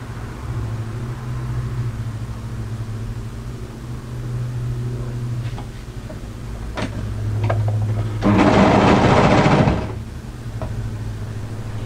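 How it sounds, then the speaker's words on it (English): A home sewing machine runs a short stitching burst of about a second and a half along the inseam of drop-crotch joggers, loud and close against a steady low background hum. "So now we're going to sew the inseam."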